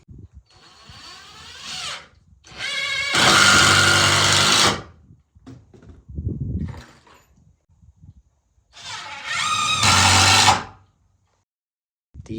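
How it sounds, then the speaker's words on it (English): Power drill driving 3-inch screws into 2x4 lumber for a sawhorse, two loud close whirring bursts of a couple of seconds each, the motor straining as each screw sinks, separated by brief handling noises. "put it in the corner like that, sink in 4 3-inch screws."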